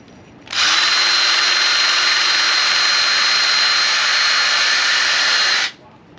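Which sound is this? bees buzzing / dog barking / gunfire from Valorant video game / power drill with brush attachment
power drill with brush attachment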